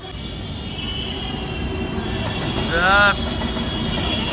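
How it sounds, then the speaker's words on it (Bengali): Steady low rumble of a train passing near Dakshineswar Kali Temple, with a brief rising whine near the end, under a person talking. "একটা ট্রেন এখান থেকে পাস করছে"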